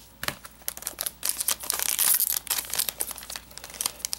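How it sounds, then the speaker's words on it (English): Cardfight Vanguard booster pack foil torn open by hand, a run of crinkling, ripping bursts with sharp crackles, close and fairly loud, no talking. "I'm trying to do the just tear open method instead of using scissors"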